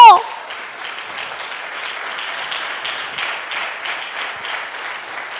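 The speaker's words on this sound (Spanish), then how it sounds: "Dale un fuerte aplauso." A church congregation applauds steadily for several seconds, a dense wash of clapping that follows a brief shout at the start.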